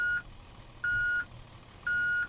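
Reversing alarm of a 1993 Carpenter Ford B700 bus in Rigs of Rods, three evenly spaced steady electronic beeps with short gaps, loud and clear over a faint low engine hum.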